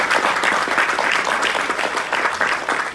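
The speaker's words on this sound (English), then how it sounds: "Big round of applause for the Sunita who did this Kanyadan." Wedding guests applaud during a Hindu ceremony after the Kanyadan ritual. The clapping is dense, steady and fairly loud throughout, with no voices standing out above it.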